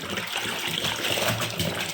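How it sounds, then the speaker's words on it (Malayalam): An old purdah (burqa) being washed by hand in a basin of water, with steady, continuous sloshing and swishing of the fabric close by. "വെള്ളത്തിൽ വെറുതെ ഇങ്ങനെ കഴുകിയെടുക്കുകയാണ്"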